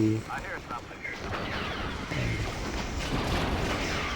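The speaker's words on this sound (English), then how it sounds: "All it's gonna take is more heavy fire on that AT-AT" Heavy blaster fire pounds a poor-condition AT-AT in Star Wars Battlefront, a dense continuous barrage of booming energy shots with speech-like chatter mixed in throughout.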